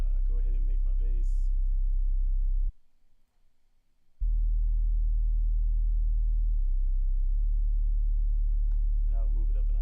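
A deep 808 bass made in FL Studio holds a low, sustained hum that briefly cuts out and returns, with someone talking over the start and end.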